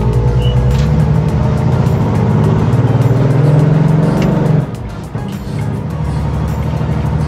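A fully restored International Scout, a rare classic, accelerates on a test drive; the engine rises in a loud, close drone, breaks off sharply during a rough gear change, then picks up again at a lower pitch.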